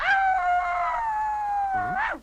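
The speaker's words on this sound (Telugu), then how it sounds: "అదే ఇందాకడి నుంచి అట్టాగే మరుగుతున్నా కుక్క" At night a dog gives one long, sustained howl, steady and fairly loud, with a brief rising yelp at the end, with no talking over it.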